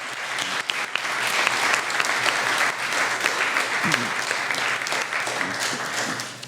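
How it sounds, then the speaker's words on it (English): Sustained applause from a crowd at a July 4th celebration, steady clapping filling the whole stretch without a break. "So we'll give all of them a round of applause."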